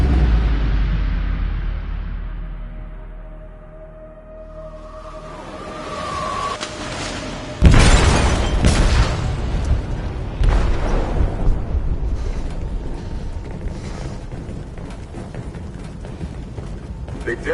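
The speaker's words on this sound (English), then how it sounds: "They detonated an explosive in the hold." An explosive detonates in a ship's hold in Detroit: Become Human, a heavy booming blast that strikes suddenly after a tense low lull, followed by rumbling, crashing aftershocks and churning noise as voices shout over it.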